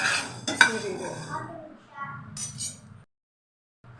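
Roasted cumin seeds being tipped from a pan onto a plate, with clinking metal and rattling dish sounds and a scraping spoon, then a sudden stop into silence.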